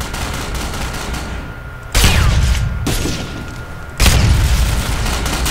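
Gunfire in the Ghost Recon video game: two loud, sharp bursts of shots about two seconds apart, each with a booming low tail, over a steady background of game ambience.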